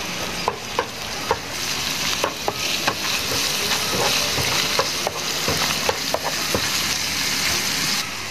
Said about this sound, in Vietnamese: bây giờ mình sẽ cho thịt bằm vào trước cho các bạn. Mình xào cho đều nha các bạn